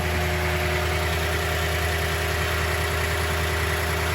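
A Toyota Tundra truck engine idles steadily with a low, even hum and faint high whine, close and continuous with no talk over it.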